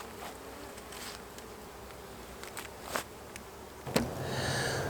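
Honey bees buzz steadily around a hive, a dense continuous drone with a few louder passes close by, no voices.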